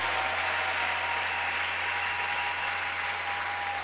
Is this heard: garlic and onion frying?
no